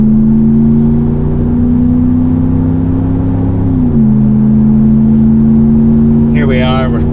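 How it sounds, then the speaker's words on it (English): A 2019+ Dodge RAM 5.7L with an MBRP dual split rear cat-back exhaust drones steadily as it accelerates on a highway, a loud engine note heard from inside that drops in pitch at a gear change, with brief talk at the end. "gives you a much cooler exhaust note"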